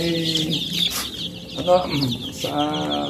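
Free-range native chickens cluck close by in a series of short, throaty calls, several birds overlapping in bursts with brief gaps between them.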